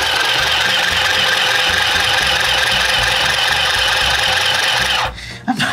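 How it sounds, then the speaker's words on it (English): A plastic mini sewing machine stitches close by with a fast, steady mechanical chatter and hum. It runs without pause and then stops abruptly near the end, leaving a few faint knocks. "does it sew? Let's get some stitches in there."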